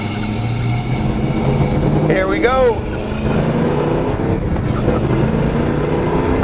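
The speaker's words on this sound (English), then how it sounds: "I do love these big blocks. Sounds awesome." 1969 Chevrolet Chevelle with a big-block V8 accelerating, a loud continuous engine roar heard from inside the car with a brief rising whine midway, as someone speaks briefly over it.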